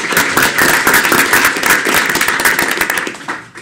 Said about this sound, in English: let's give them a round of applause anyway.